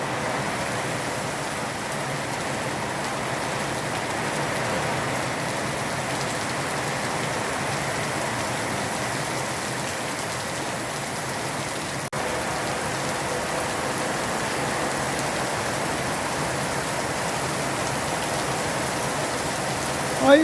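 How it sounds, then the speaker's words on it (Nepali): Heavy rainfall around Gangtok pours down in a steady, unbroken hiss of dense drops that stays even throughout, with no voices. "हेर्नुहोस् न यस्तो पानी पर्दैछ।"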